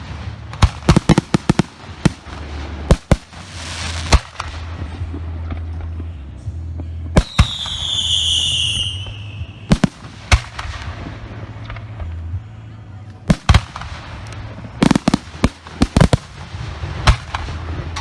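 Professional fireworks shells bursting at a 2018 display in Richmond, Missouri, with repeated loud sharp booms and crackling in irregular clusters, some in quick volleys, alongside a rising whistling shell.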